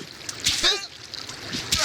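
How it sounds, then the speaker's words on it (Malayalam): A vehicle ploughing through water in the survival game Sons of the Forest, bursts of splashing and sloshing come in short waves amid game noise. "ഞാൻ വെള്ളത്തിൽ കൂടെ വണ്ടിയായിട്ട് പോകുന്നുണ്ടല്ലോ"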